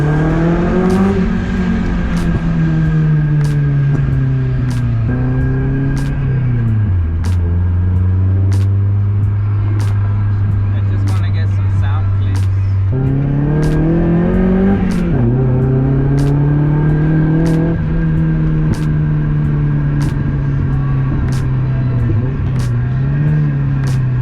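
A 1.6-litre Mazda Miata fitted with a CX Racing exhaust manifold drones loudly from inside the cabin, its engine note steady as it cruises, dipping and rising through gear changes, with regular clicking ticks over the top.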